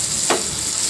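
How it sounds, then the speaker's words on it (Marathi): Fish fillets coated in flour frying in oil in a pan, a loud continuous sizzle with one brief stirring scrape, close up and without talk. "दुसरी बाजू पण खूप फ्राय करून घेऊया आपण."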